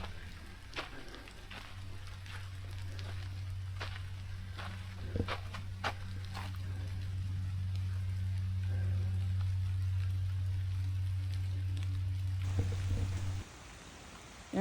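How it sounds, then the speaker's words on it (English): Steady rain falls on a river in a Florida state park, a constant broadband hiss with scattered drip-like ticks and a low rumble beneath, continuous and even throughout before cutting off near the end. "it is raining in earnest now"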